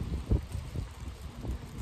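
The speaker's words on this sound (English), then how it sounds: "Wind's picking up." Outdoor wind gusts buffet the microphone in low rumbling bursts through a short stretch, steady and fairly quiet with no one talking.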